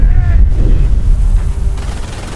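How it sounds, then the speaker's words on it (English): Artillery shells explode in the World War II strategy game Company of Heroes. Deep, loud booms roll into a continuous low rumble that slowly fades. "Artillery. Let's do the artillery."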